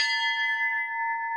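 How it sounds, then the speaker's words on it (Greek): A single church bell, a 2005 copy of an 1874 original, rings out with a sustained, clear metallic tone that hangs steadily without fading. "Κάθε καμπάνα βγάζει το δικό της ήχο."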